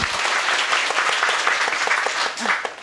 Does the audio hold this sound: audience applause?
yes